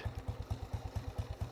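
Vintage Panther motorcycle engine running steadily up close, a regular low thumping beat of about eight firing pulses per second with mechanical clatter on top and no voices.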